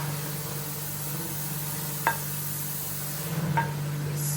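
Chopped chapati and masala sizzle steadily in a hot pan while being stirred for kothu chapathi, with a low frying hiss throughout and a few faint clicks of a utensil against the pan.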